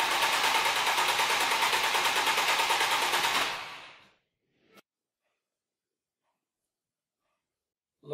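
Starter motor cranking an engine, a loud steady pulsing whir for about three and a half seconds that winds down and stops, followed by silence and a faint click.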